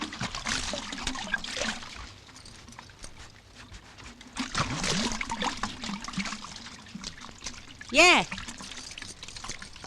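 Water is poured and trickles in uneven spurts close by, mixed with people talking, with a brief louder splash-like burst near the end.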